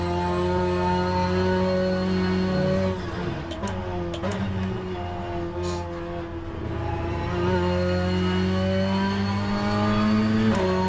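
Engine of a front-wheel-drive car in the rFactor racing game, droning steadily and close, with the pitch dropping and then climbing again as the car drifts through a corner.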